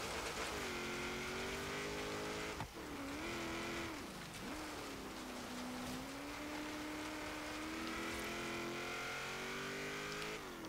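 A 1979 Chevrolet Camaro Z28 in the Forza Horizon racing game runs a continuous loud engine drone on an autocross course, its pitch rising and falling with gear changes and throttle, with one brief dip partway through.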